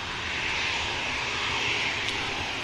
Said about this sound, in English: EasyJet entering the active now.